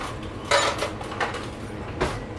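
Metal cutlery clinks against dishes while a fresh spoon is picked up during pear butter canning, three or four sharp close clatters in the quiet, with no talking.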